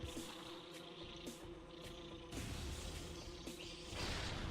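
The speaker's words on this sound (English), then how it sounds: "The bee got in the way!" Bees buzzing around beehives in the video game Metroid Prime, a continuous insect drone with rising and falling swells and a few soft whooshes, with no speech.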